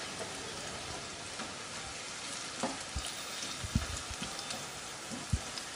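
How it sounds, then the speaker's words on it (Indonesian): Tempeh frying in a pan for a home stir-fry dish, a steady crackling sizzle that runs throughout, with occasional louder pops and stirring knocks standing out up close. "Ini kita juga goreng tempenya sampai nanti mateng."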